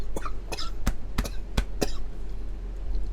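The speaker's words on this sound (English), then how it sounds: "we're coughing." A person coughs repeatedly, about six sharp, close coughs in quick succession over a low steady hum, then quiet.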